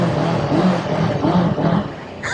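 A Honda CB500X motorcycle engine revs up and down in a few swelling bursts, loud and close, with heavy wind noise over it and no talking.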